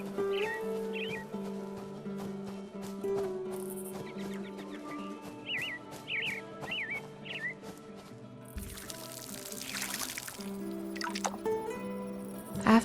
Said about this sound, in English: Then I watered the beet seeds.